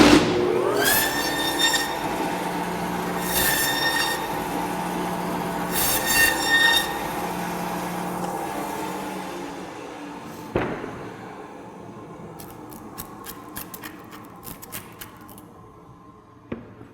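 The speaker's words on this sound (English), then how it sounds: "And so I'm going to take this over to the bandsaw." A bandsaw cuts sirloin chops from a sheep carcass in a butcher shop, with a loud, sustained metallic whine and rasping drone. Squealing tones rise in repeated surges, then fade, followed by scattered clicks and scraping.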